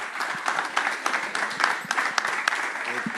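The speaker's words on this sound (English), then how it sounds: "Another round of applause for Ivan, please." Audience applause at an African Bitcoin circular economies summit following a book presentation, a dense patter of clapping with sharp individual claps standing out, steady throughout the short burst.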